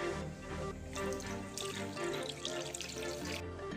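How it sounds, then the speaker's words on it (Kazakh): Cold water poured into a chicken marinade, a continuous close splashing and trickling stream that runs without a break, with no talk over it. "Осының үстіне салқын су қосамыз."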